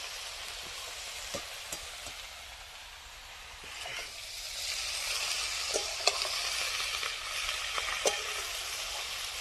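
Spinach leaves frying with vegetables, eggplant and spices in a pan, a steady broadband sizzle with occasional stirring scrapes and clicks, moderately quiet and continuous, without any voices.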